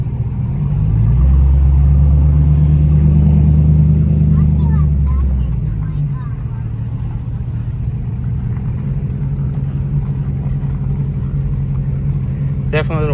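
An LS-swapped BMW on a street test drive, a deep throaty engine rumble that swells loudly over the first few seconds, then settles into a steadier low drone as the car cruises.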